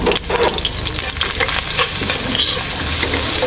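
Garlic and onion sauté in a hot pan, sending up a loud, dense sizzle broken by repeated scraping stir strokes, close and with no voices.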